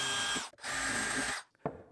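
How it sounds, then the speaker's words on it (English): A power drill whirs in two steady bursts, with a brief pause between them, as screws are driven into a wooden drawer face. A short clunk follows, and no one speaks. "Once clamped, I'm just going to drill in where I want those screws to be."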